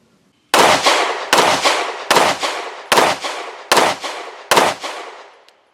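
Six loud, sharp handgun shots from a Springfield Armory Echelon pistol, fired at an even pace about one per second, each with a brief decaying tail and no talk.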